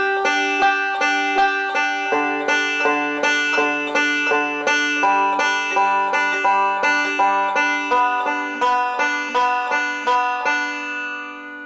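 Bright plucked banjo notes ring out in a steady, even rolling pattern, the thumb picking the 5th string, close and clear with no voices.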